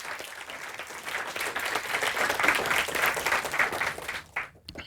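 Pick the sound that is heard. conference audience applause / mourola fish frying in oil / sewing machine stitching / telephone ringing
conference audience applause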